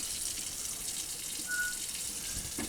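Tap water runs steadily into a sink while Cornish game hens are rinsed before seasoning, a continuous close hiss of flowing water with a faint clink near the end.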